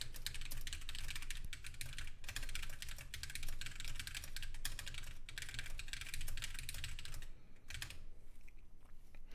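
Fast, steady typing on a Keychron Q15 Max ortholinear mechanical keyboard, a dense run of close, clicky keystrokes that carries on without pause and tapers briefly near the end.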